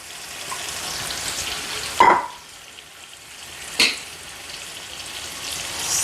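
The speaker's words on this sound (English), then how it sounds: "Now I'm gonna add my onions and garlic." Onions and garlic fry in oil and butter in a pot for fried rice, giving a soft steady sizzle broken by two sharp clatters, likely from stirring or a spoon against the pot.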